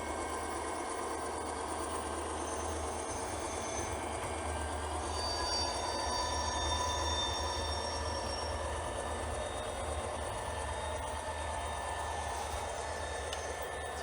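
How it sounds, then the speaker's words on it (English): An HO scale model train on a modern switching layout rolls steadily past, its wheels squealing in thin, sustained high-pitched tones over a continuous low rumble of running cars, fairly quiet and with no talking. "Start hearing some squeals here right about now."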